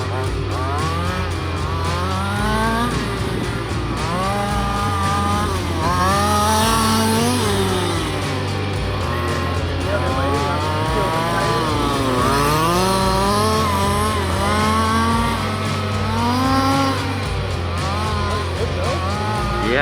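The two-stroke gas engine of an HPI Baja 5b RC car buzzes loudly and continuously at close range, its pitch rising and falling in repeated revving sweeps as it drives over rough ground.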